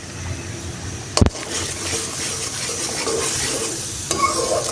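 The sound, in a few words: onion and green chili paste frying in a kadhai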